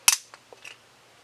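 A sharp, bright snap as a Beyblade Burst top is launched, followed by a few faint ticks and rattles, all within about a second and heard close up.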